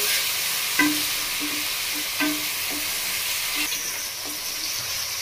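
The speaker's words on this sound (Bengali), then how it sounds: "বন্ধুরা একটু ভালো করে নাড়িয়ে চাড়িয়ে নিয়েছি।" Vegetables for fried rice fry in a pan as a spoon stirs them, with regular scraping strokes about once a second over a constant close sizzle.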